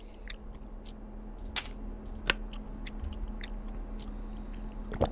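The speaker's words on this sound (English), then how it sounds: "Oh, that noise that he makes when eating." A character eats food in the survival video game The Long Dark, with close, quiet crunching and wet chewing bites scattered over a low steady hum.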